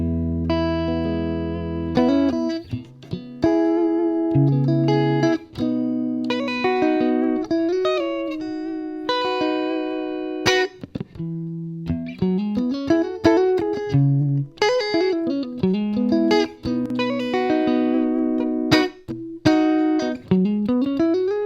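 Electric guitar, a PRS SE Swamp Ash Special on the neck and middle pickups, with a clean, bright tone played solo, melodic phrases with bends and quick runs interspersed with sustained notes.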